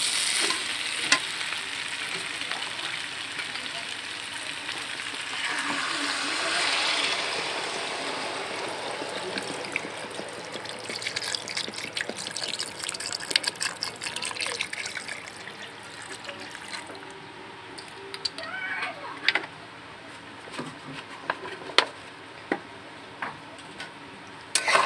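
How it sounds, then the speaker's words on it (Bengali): Water poured into a pan of well-fried spiced vegetables such as papaya and green banana for a magur fish curry, hissing and sizzling steadily with scattered clicks of stirring, fairly quiet throughout. "এবার এর মধ্যে আমি জল ঢেলে দেবো।"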